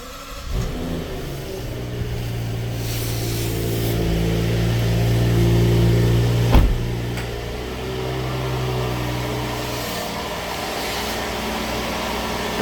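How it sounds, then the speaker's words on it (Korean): A Rolls-Royce Dawn Black Badge starts with a brief crank, then settles into a steady, smooth, close-up idle hum, with a sharp click midway and the engine note holding. "이렇게 이제 시동을 키면 계속 이제 유지가 됩니다."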